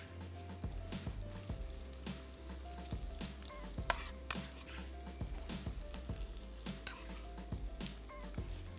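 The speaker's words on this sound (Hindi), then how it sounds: "2 अदद प्याज हमारी शुरू हो चुकी है पकना" Two onions frying in a pan, a steady close sizzle with repeated stirring scrapes and soft clinks throughout, heard alone without talk.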